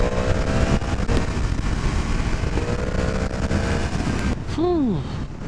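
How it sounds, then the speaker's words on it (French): A 2022 Yamaha MT-10 roadster motorcycle ridden slowly gives off a steady, low engine drone mixed with wind rush, close and continuous, and a brief sweeping tone near the end. "Quelqu'un a déjà roulé si doucement avec une MT10 hein"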